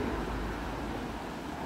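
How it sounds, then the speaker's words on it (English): Road traffic near an old bridge at Inverkip in Scotland, a faint, continuous broadband rumble and hiss heard from a distance with no distinct passing vehicles and no talking. "You can hear the traffic"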